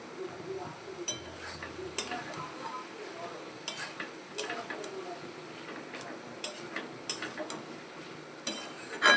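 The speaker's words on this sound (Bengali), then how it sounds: "এখন আমি চিংড়ি মাছ ভাজাটা দিয়ে দিচ্ছি লাউ ঘন্টার মধ্যে।" Fried prawns added to a bottle gourd dish in a pan, with sharp clinks and taps of a spoon against the cookware at irregular intervals over a faint background, fairly quiet.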